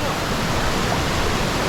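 Mapalana waterfall, fed by streams from the Samanala mountain range, roars as a steady, loud, close wash of falling water with no break and no voices.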